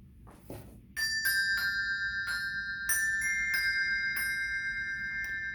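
Malmark Cymbells, handbell-style bells, struck one after another in a simple tune: about a dozen bright, clear ringing tones in a steady rhythm. They sound close and loud, and their shimmering resonance overlaps from note to note, with no talking.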